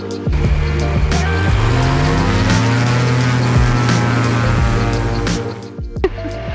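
A small aircraft's engine runs up at the holding point of runway 26 right before departure, a loud, steady droning hum with pitch shifts, continuous and close for several seconds before easing slightly at the end.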